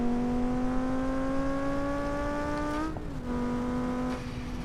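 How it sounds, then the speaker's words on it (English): A Vivace street car in BeamNG.Drive revs hard in first gear, its engine note climbing steadily with a steady harmonic whine, then dropping sharply as the clutch is released and it pulls away with turbo lag. "put it in first gear, rev it up, let it go"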